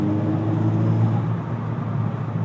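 Car with a tuned turbo engine and muffler-delete exhaust pulling hard in fourth gear, a steady loud droning rumble that swells slightly, heard from inside the cabin with no talking.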